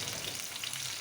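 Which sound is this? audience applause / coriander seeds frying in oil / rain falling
coriander seeds frying in oil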